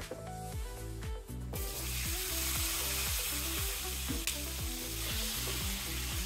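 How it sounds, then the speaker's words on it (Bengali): Potato pieces fry in oil left over from frying katla fish, a loud, dense, continuous sizzle heard up close, steady throughout with no voices. "প্রথমে আমি আলুর টুকরাগুলোকে ভেজে নেব।"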